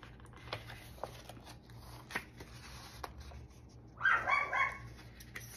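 A young female puppy barks indoors with a short burst of sharp yips and yelps near the end, heard over faint rustling and light clicking from pages being handled.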